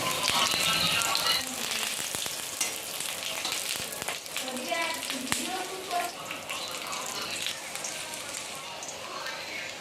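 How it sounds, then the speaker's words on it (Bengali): Taro leaf fritters fry in hot oil, giving a steady, loud crackling sizzle with scattered pops that continues throughout. "গরম তেলে ছেড়ে দেওয়া হচ্ছে ভাজার জন্য"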